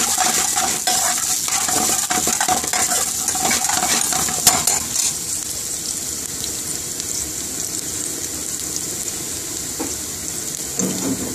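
Cashew nuts stirred into a pan of sizzling whole spices (cumin, bay leaf, cinnamon stick) for Kashmiri pilau rice, with a steady hot frying hiss and repeated metal spoon clinks and scrapes close by, without talk.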